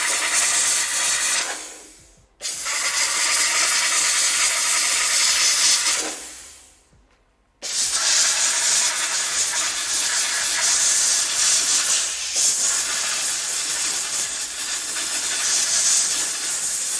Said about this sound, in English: So we'll steam this off.